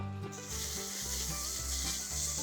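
Ginger garlic paste sizzles in hot butter in a pan, a soft continuous close fizz that stays fairly even throughout, with faint low tonal hum underneath and no speech.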